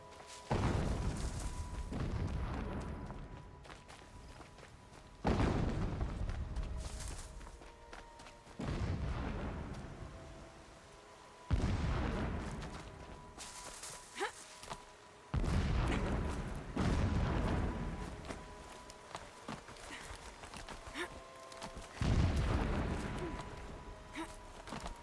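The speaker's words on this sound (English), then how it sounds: "Explosions in the distance." Deep booming blasts roll in from afar in Horizon Zero Dawn Remastered, about six heavy rumbling hits spaced a few seconds apart, each swelling and fading slowly.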